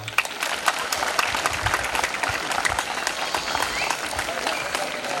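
An audience claps steadily at a college farewell function, a dense, continuous round of applause heard from within the crowd, with faint voices underneath.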